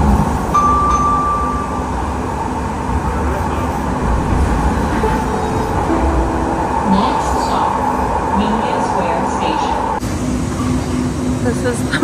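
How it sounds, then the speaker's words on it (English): A San Francisco metro train runs underground with a loud, steady low rumble and whooshing roar that continues throughout. Brief faint squeals and clanks come through, and voices are heard in the carriage. "This is the metro."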